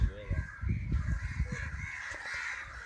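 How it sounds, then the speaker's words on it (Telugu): Crows cawing nearby in a short burst of harsh calls, mixed with people talking. "అన్నీ వస్తాయి కాకులు"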